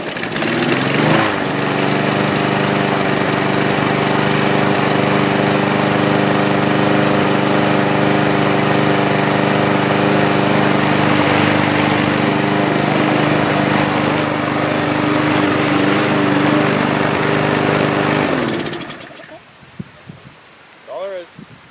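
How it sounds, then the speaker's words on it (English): A Briggs & Stratton 6.75 lawn mower engine runs steadily at close range with a loud, droning hum, then cuts off abruptly near the end, leaving quiet. "We'll start it up."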